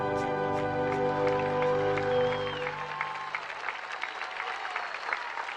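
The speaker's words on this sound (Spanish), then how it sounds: "Ballet oficial de la Fiesta Nacional del Chamamé recibe este cálido aplauso." Audience applause for the official ballet at the Fiesta Nacional del Chamamé, a dense crowd clapping that takes over as music ends, continuing warm and sustained.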